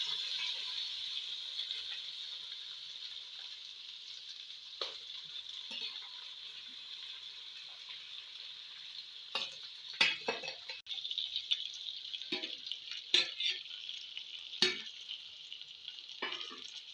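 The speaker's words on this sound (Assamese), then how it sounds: "এতিয়া ভালকৈ ভাজ খাবলৈ দিম" Marinated chicken fries in a pan with garam masala, cumin, chili powder, turmeric and salt, giving a steady hissing sizzle throughout, with scattered scraping stir clatters in the second half, close and fairly loud.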